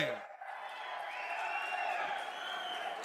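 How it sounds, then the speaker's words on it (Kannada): Crowd noise at a Karnataka political rally as an MP is called to the stage, a sustained broad wash of clapping and cheering that holds steady and loud throughout. "ಮಾನ್ಯ ಸಂಸದರಿಗ ವೇದಿಕೆಗೆ ಬರಲಿ ಜೋರಾದ ಚಪ್ಪಾಳೆ"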